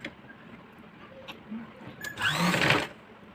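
A sewing machine stitching the corner of a pillow cover runs in one short loud whirring burst near the end, after a few faint clicks and quiet handling.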